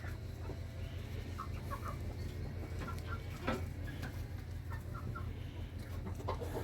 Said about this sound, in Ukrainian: Це якась курка нас сидить